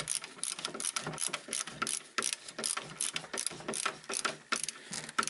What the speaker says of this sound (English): Let's tighten the front and drop the plate back down.